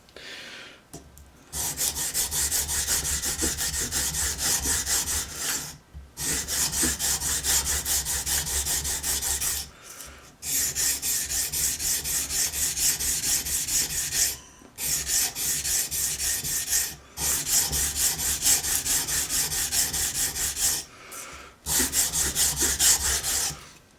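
A knife blade is convex sharpened with long, steady rasping strokes, each scratchy rub lasting several seconds and separated by brief pauses, close and fairly loud with no talking.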